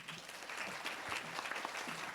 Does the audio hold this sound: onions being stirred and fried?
no